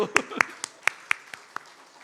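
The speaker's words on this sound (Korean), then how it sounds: "옆 사람에게 잘했다고 박수" About eight separate claps ring out sharply in a church congregation, spaced evenly at roughly a quarter-second apart, close and distinct against a quiet room.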